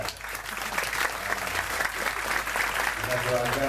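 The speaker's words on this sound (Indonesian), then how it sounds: "Tepuk tangan untuk mereka." Audience applause at an Indonesian gathering, a steady crowd clapping throughout, fairly loud and dense, with some voices mixed in beneath the clapping.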